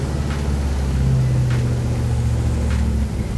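A V8 LS engine swapped into a Lexus IS200 idles steadily just after its first start, a loud, low, even rumble with no voices.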